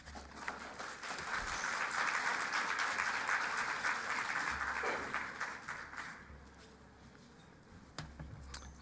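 An audience at a sickle cell disease summit applauds to welcome a speaker to the stage, a dense, sustained clapping that swells, holds for several seconds and then tapers off.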